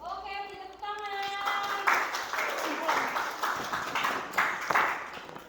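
Classroom audience claps after a student presentation, a burst of scattered hand claps in bursts following a short tonal chime, with voices mixed in.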